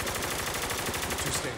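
Rapid automatic gunfire in the shooter game Spec Ops: The Line, a loud, sustained burst of evenly spaced shots running through the whole moment with no pause.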